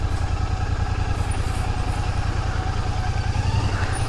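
A Honda CB 350 motorcycle engine idles nearby with a steady, low, even thump and no talk.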